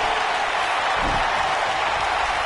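A video game arena crowd in WWE 2K19 cheers and applauds steadily at a wrestling event, a dense, roaring wash of noise with no clear voices standing out.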